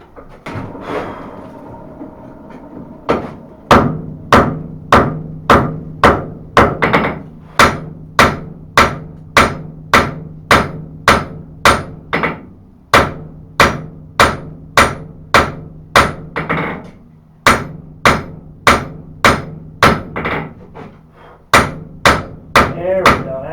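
Hand hammer strikes hot steel on an anvil while thinning a knife preform, a steady rhythmic series of sharp ringing blows, some in quick double taps, loud and close with no talking.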